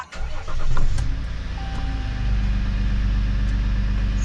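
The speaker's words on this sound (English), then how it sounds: "try and start the truck" A 2014 RAM 1500 pickup's engine cranks briefly, catches and settles into a steady loud idle rumble close by, with no talking.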